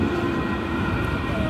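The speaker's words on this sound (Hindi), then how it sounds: "ये ट्राम जा रही है" A tram rolls past on a city street in Frankfurt, Germany, a steady close rumble with rail clatter that fills the whole moment.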